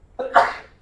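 A single sharp human sneeze, close and loud, with a short intake leading into an abrupt burst that trails off quickly in an indoor meeting room.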